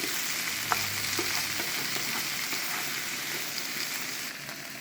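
Vegetarian gan-fan sizzles steadily in a hot pan as ingredients are stirred and mixed in, a continuous close frying hiss with a few soft utensil scrapes and taps.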